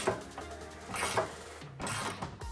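Quick clicking ratchet strokes loosening a bolt on the radiator support of a 2005-2010 Ford Mustang, a close, mechanical rattle in short bursts with brief pauses between pulls.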